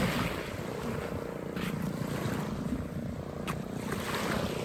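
Constant engine drone of a fishing boat on the sea, steady and moderately loud, with wind and water noise and no clear talk.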